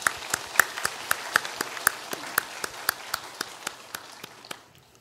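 Steady, evenly spaced hand claps ring out in a church service for Sunday school teachers, crisp and fairly close, each clap distinct, gradually fading toward the end.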